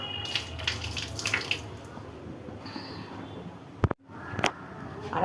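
Hands washed under a running tap, with splashing, dripping and squishy rubbing of wet skin close by, a sharp knock near the middle, then the water resumes briefly.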